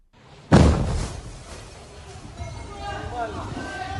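A missile strike hits a barracks, heard from inside as one sudden heavy boom followed by a rumbling decay, then agitated voices talk and shout in the aftermath.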